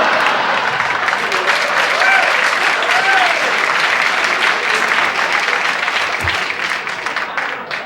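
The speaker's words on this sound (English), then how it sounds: "I resent this applause" A large television studio audience applauds steadily and loudly, a dense sustained clatter of clapping that tapers slightly near the end, with faint voices mixed in.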